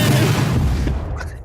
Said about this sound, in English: And edited the explosion.